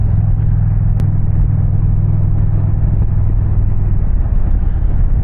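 A Honda Goldwing motorcycle's exhaust rumbles at a deep, steady idle up close, a loud continuous low throb that stays even throughout.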